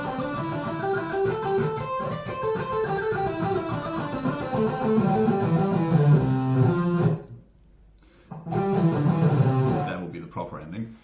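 An electric guitar runs a quick repeating pentatonic scale sequence in groups of three notes, bright and continuous, pausing briefly before resuming near the end.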